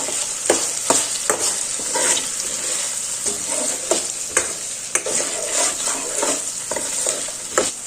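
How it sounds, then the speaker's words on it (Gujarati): Onion, potato and chopped tomato sautéing in a pan, with a steady loud sizzle and repeated scraping stirs of a spoon against the pan at an uneven rhythm, close up and without voices. "હવે આપણે તેની અંદર સમારેલું ટમેટું એડ કરી દઈશું તેને પણ મિક્સ કરી દેશું અને થોડું સાતડી લેશું"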